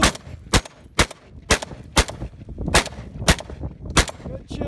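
About eight loud, sharp gunshots crack out close by at a roughly steady pace during a shooting competition stage at the MGM Ironman match, with faint background noise between the shots.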